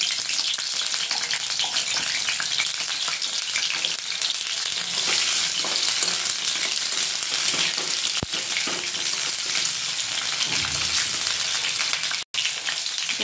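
Potatoes frying in mustard oil, a loud, dense, steady crackling sizzle close by, continuous like heavy rain, with a brief clatter near the end.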